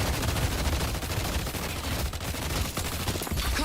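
Dense, loud gunfire from the Deadlock video game rattles continuously in rapid overlapping bursts for a few seconds, with no voices.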